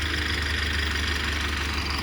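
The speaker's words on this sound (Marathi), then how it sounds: "हे बघा, ट्रॅक्टर चालू आहे, घेऊन जातात तिकडे." Tractor engine running near a village road where bullock carts pass, a steady loud low rumble with constant vibration and no pauses.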